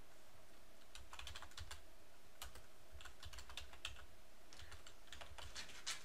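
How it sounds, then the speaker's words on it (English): Steady, quiet clicking of keys being typed on a computer keyboard during a command-line walkthrough, in irregular clusters of keystrokes with short pauses between them. "If I type in unmount correctly."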